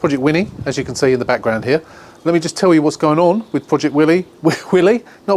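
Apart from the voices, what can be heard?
No distinct noise like a dog, phone or traffic.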